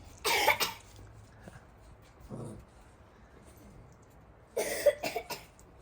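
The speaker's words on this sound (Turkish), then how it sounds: "Öksürüyorsun." A girl coughs outdoors in a yard, a quick burst of two or three coughs, then a single softer cough, then another short cluster, close by and fairly quiet, with a soft voice briefly in between.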